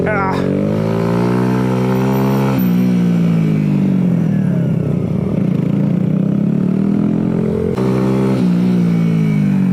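A motorcycle runs in first gear on a small mini track, its engine loud and close as it revs up, drops back and climbs again, with a voice heard over it.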